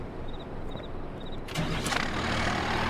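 A 1970s farm truck in Farming Simulator cranks over after a few faint chimes, then its engine catches and settles into a steady, rumbling idle, close and without talking.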